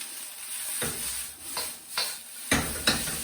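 Singapore noodles tossed with tongs in a hot wok, a steady sizzle broken by several sharp scraping stirs and clanks, with no talking.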